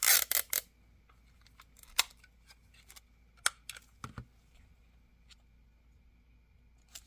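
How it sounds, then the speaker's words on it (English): Tape pulled and pressed onto the back of a handmade paper divider, a few sharp ripping bursts at the start followed by scattered light clicks and rustles, close and quiet with no talking. "And I am going to tape the back side."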